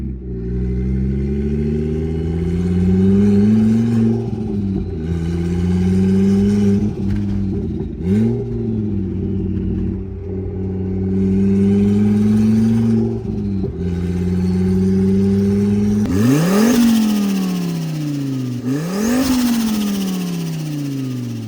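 Turbocharged 2.5-litre five-cylinder VW Jetta engine with a stage 4 clutch kit, driving through repeated gear pulls with the revs rising and dropping, then two sharp rev blips near the end, loud and close throughout.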